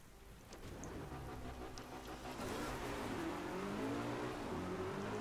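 Steady rain and a car engine revving and driving in the racing game Driveclub, a dense wash of rain hiss over a low, rising engine drone throughout, with no talk.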